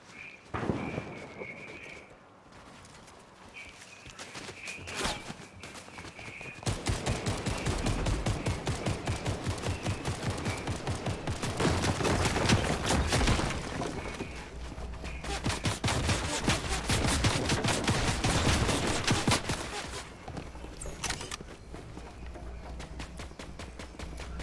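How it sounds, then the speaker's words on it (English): Fortnite gunfire during a 4v4 match while building in wood: dense bursts of rapid automatic fire and rattling shots, loud and sustained for most of the stretch, with brief quieter gaps between volleys. "They're shooting at me"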